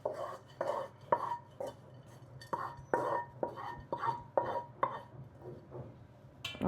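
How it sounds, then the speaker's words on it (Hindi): Nuts stirred around a kadhai in a little leftover ghee, giving repeated scraping and clinking strokes of a spoon against the metal pan, close and steady, with no talk. "हम थोड़े से ये जो नट्स है इनको कढ़ाई में डालेंगे एक बार, और इसे थोड़ा घुमा लेंगे"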